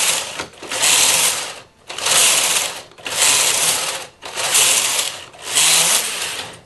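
A knitting machine's lace carriage sliding across the needle bed in five loud rasping, whirring passes, each a sweep of about a second broken by brief quiet pauses, close up with no talk.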